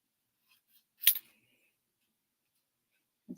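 Scissors make a single sharp snip through card during an angled cut for a handmade greeting card, with a few faint ticks before it and a soft thud near the end, otherwise quiet.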